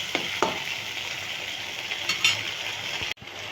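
Chopped tomato and spice paste cooking down for chickpea curry, a continuous sizzle broken by a few stirring scrapes and clinks before a sudden cut near the end.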